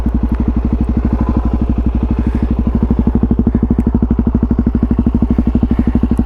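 A DRZ400 motorcycle with an open exhaust pipe runs close and loud with a steady, rapid thumping idle, its pulses evenly spaced throughout with no voices.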